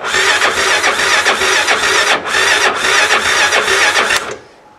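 Car engine cranks and catches after a frozen battery is revived, a loud steady churning run for about four seconds, with a brief dip near two seconds, before cutting off abruptly into near silence.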